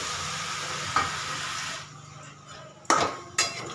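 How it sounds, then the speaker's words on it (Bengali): Food stirred in a pan just after sugar and water go in, a continuous hiss and scrape that quiets midway, followed by a few sharp spoon clinks against the pan, close and without talk. "আবার একটুখানি নাড়াচাড়া করে নিলাম"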